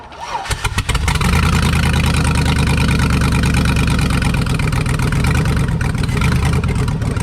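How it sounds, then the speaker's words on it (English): A heavy turbocharged engine in a GMC Yukon XL turns over and settles into a loud, steady rumbling idle that carries on without pause. "It kind of sounds like a turbo truck."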